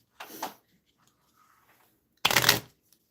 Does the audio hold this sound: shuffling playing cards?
yes